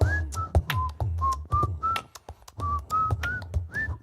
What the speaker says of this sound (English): Where's that whistle solo?